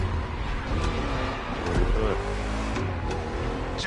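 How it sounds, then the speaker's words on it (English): A V8 muscle car engine in a racing video game revs and pulls hard, a steady loud roar with rising and falling pitch swells, heard alone without talk. "listen to that V8 like a chunky, down-tuned guitar riff"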